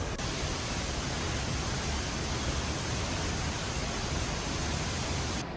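Costa Rica waterfall near La Fortuna, a steady broadband roar of falling water that stays constant and dense throughout, with no voices.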